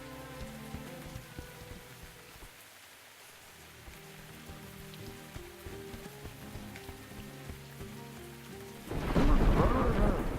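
Steady rain patters beside a pond in the video game Dyscourse, a low continuous hiss that breaks near the end into a sudden loud, close crack and rumble of thunder.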